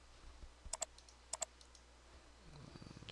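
Computer mouse clicks while drawing in SketchUp, two quick pairs of sharp, faint clicks close to the mic over quiet room noise, with a low murmur of a voice starting at the end.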